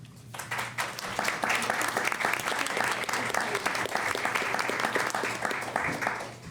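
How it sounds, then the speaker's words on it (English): An audience at a university candidate forum on racial justice applauds a speaker with steady, many-handed clapping that builds quickly and stays fairly loud. A faint low hum sits underneath and the clapping fades slightly at the end. "Can we give Julie a round of applause?"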